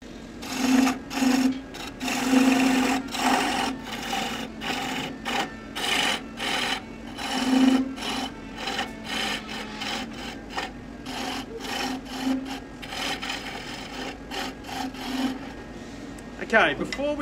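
Wood lathe turning a shovel handle with a roughing gouge, giving a steady scraping, rasping whir with repeated tool-contact bursts across the whole stretch, close and fairly loud, with no talking.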